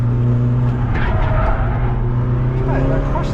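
A BMW driven hard on a race track, its engine droning loudly and continuously with brief rising tire squeals near the end, heard from inside the car with voices talking over it.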